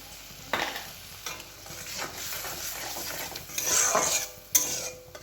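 Spice paste (masala) for a hilsa fish curry bubbles and sizzles in a pan, with soft stirring scrapes and a couple of sharp clinks from a utensil against the pan, close and fairly quiet.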